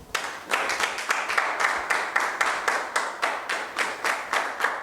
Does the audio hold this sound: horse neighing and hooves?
no